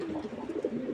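A racing pigeon coos close by, a low, throaty warbling burble that rolls on steadily for a moment with no voices.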